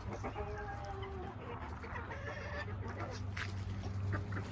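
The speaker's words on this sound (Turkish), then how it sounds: "Bu böyle paçalı tavuğumuz. Şurada paçalı horozumuz." Feather-footed chickens cluck softly against a constant low background hum, with occasional short calls and no talking.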